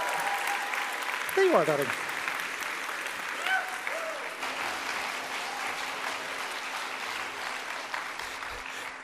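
Audience applause at a game industry award ceremony, steady and sustained across the whole stretch, with someone speaking briefly over it near the start as an award presenter takes the stage.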